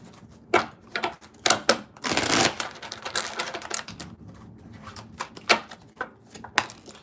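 Tarot cards are shuffled with brisk riffling and soft slaps, a longer rustling burst in the middle, then scattered taps as the deck settles.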